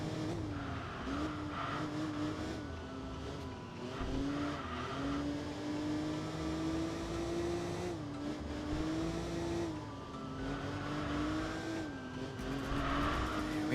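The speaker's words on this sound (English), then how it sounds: "Essentially a Porsche in the Nordschleife." Porsche lapping the Nordschleife in the Enthusia Professional Racing video game, its engine droning steadily with rising and falling pitch through gear changes, plus brief tire squeal, loud and continuous with no talking.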